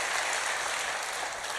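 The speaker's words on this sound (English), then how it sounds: "Can we give a round of applause for that?" An audience at a teachers' summit applauds in a brief, dense burst of clapping that holds at an even level throughout.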